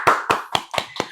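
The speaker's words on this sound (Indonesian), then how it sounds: "Ya tepuk tangan semuanya." Five slow, evenly spaced hand claps ring out close by during an Indonesian podcast introduction for a doctoral scholarship awardee, each clap a crisp, separate smack with no talking.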